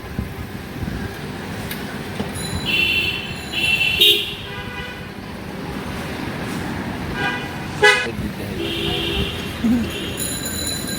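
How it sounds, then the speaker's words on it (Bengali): Car horns toot repeatedly in a congested road traffic jam, several short honks of differing pitch standing out over a steady rumble of engines and traffic. "আর আমরা আমাদের রাস্তায় জ্যাম আর জ্যাম।"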